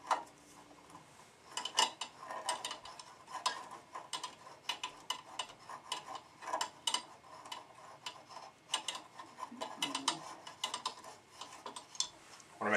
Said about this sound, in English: but let me screw this back in.